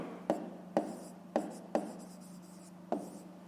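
Pen strokes on paper during a Ukrainian 5th-grade math lesson, five quick taps and scratches spaced across a few seconds, faint and close over a steady low hum, with no talking.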